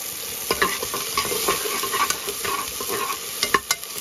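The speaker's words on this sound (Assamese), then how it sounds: "ইফালে ধুনীয়াকৈ পিঁয়াজকেইটা ভাজি লৈছোঁ" Steady sizzling of onions frying in a pan for khichdi, with scattered scraping stirs and small crackles throughout, close and moderately loud, no voices.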